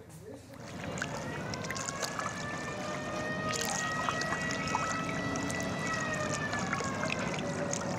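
A wooden rowboat is rowed with oars on the Buriganga river, with steady water sloshing and trickling plus a droning hum, and a voice talking over it throughout.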